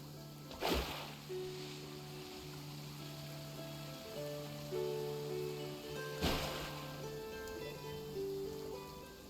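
Heavy rain in a video game pours as a steady wash of noise, joined by a sustained low musical tone and two soft swelling gusts.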